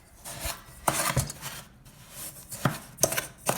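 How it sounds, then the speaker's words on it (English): Butter and sugar creamed together in a bowl, heard as repeated close scraping strokes and light knocks of a utensil against the bowl in an uneven rhythm, with no talking. "So in our bowl we have our butter and sugar, and we're going to cream it together until it's light and"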